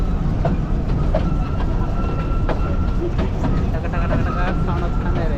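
Ooty mini train running along its track, a steady loud rumble with faint rhythmic rail clatter and passing squeals throughout, heard from on or near the moving train.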